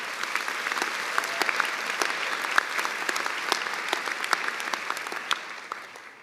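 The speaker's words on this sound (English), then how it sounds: "you all deserve another hearty round of applause" Sustained applause from a large audience at a law school commencement ceremony, a thick even patter of many hands with scattered sharper claps, easing off slightly at the end.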